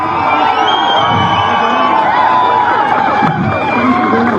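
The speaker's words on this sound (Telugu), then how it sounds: "గట్టి చప్పట్లతో" Crowd at a political rally in Hyderabad keeps up a loud, continuous cheer with whoops and shouting and scattered clapping, a dense roar that never drops.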